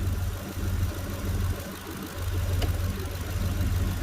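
A Ford 3V engine idles steadily with a low, rumbling drone and a faint ticking knock, nearby and continuous, with no talk over it.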